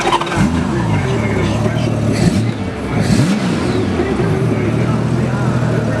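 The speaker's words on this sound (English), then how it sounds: "I'm gonna go ahead and start this bike up so you can hear it." A 1995 Honda Goldwing fitted with a California sidecar trike kit runs nearby, its engine holding a loud, steady idle with a couple of brief revs swelling and falling, with people talking over it.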